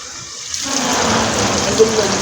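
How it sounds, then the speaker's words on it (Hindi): Chicken pieces fry in oil inside a covered karahi for a white creamy chicken karahi, giving a steady, dense, close sizzle that swells after a quiet start and holds without break. "चिकन हमारा फ्राई हो रहा है,"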